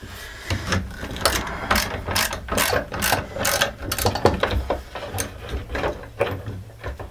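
Socket ratchet with an extension turning out a 1/2 inch bolt deep in the stock of a budget Walmart shotgun: rapid, close clicking bursts in an uneven rhythm, with brief pauses between strokes.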